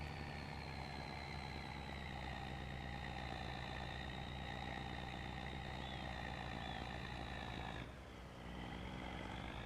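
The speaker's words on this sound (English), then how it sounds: "the truck does sound absolutely incredible." A truck engine in the Farming Simulator 25 video game drones steadily at a loud, even pitch, then briefly dips and settles back near the end, with no talk over it.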